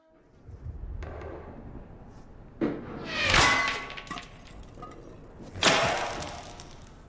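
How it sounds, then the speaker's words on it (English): Sharp sniper rifle shots strike a helmet held up as a decoy in a video game, several loud cracking impacts with metallic ringing tails spaced a couple of seconds apart over a quiet background. "So the sniper will take a shot at the helmet."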